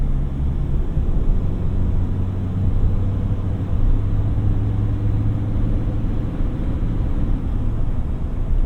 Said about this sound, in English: The diesel engine is quiet,